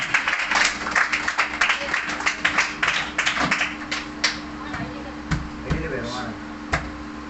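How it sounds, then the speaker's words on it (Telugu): Scattered, uneven clapping from an audience at a community meeting welcoming a speaker, with bursts of hand claps mixed with a low hum and talk. "అందరు కూడా చప్పట్లు కొట్టి ఆహ్వానించాం, ప్రతి ఒక్కరు కూడా."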